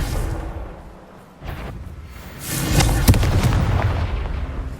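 A Confringo fire-blast spell goes off in the Hogwarts Legacy video game, a booming burst that swells after a quieter lull and peaks in one sharp crack amid rumbling, explosive noise.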